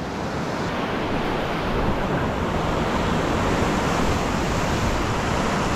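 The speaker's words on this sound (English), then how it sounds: "that surf is cranking on the outside" Surf waves breaking on a beach while surf fishing produce a continuous loud, close roar of rushing water, mixed with wind buffeting the microphone.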